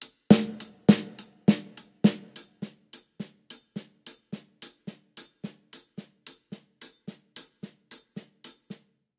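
A drum kit groove with full strokes on the hi-hat and soft tap strokes on the snare: a few strong opening hits, then a long, steady run of even, lighter hits, close and clean, with no voices.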